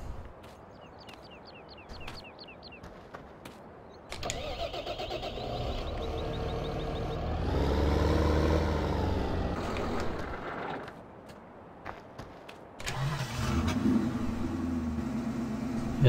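A tractor engine cranks and fires up outdoors beside a wood chipper job, settling into a steady low rumbling idle that rises in the middle and continues, with clicks and handling noises around it.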